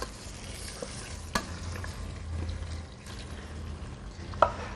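Meat for a curry sizzles steadily in a hot pan, a continuous close frying hiss with a few small pops and a brief clatter near the end.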